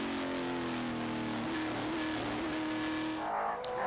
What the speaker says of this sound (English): Let's have a listen to this great sounding motor car.